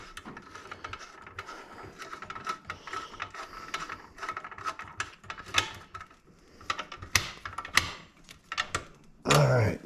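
A socket ratchet turns a nut while a car's factory AM radio is being refitted. Bursts of close, crisp ratcheting clicks come in quick irregular runs, with brief pauses and some talk.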